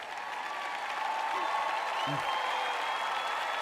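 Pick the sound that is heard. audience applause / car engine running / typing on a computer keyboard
audience applause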